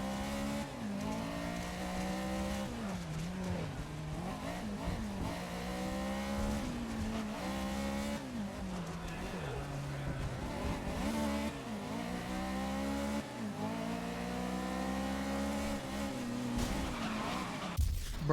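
Race car tires screech and skid through repeated lockups in the Grid 2019 video game, the squeals rising and falling over steady engine revving, all at a low, distant level.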